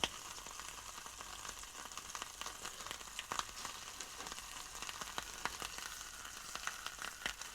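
A French military vegetable lasagna MRE cooks over a small Esbit solid-fuel stove, giving a steady, faint frying sizzle with scattered tiny pops and crackles.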